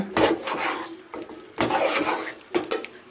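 Chicken curry stirred in a cooking pot, two or three wet scraping, sloshing strokes at close range with short pauses between them and no talking.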